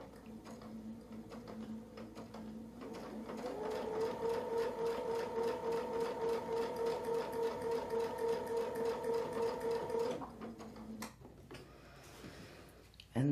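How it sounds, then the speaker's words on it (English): A sewing machine stitches a zigzag line in one steady run of rapid mechanical whirring and ticking lasting several seconds, then stops, with a short slower stretch before and after. "And that's how we sew a zigzag."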